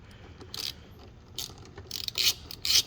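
Quick bursts of a ratchet clicking, turning a 5.5 mm socket to tighten small bolts while installing an upstream oxygen sensor on a 2018 Honda Civic Si, in four or five short close runs separated by pauses.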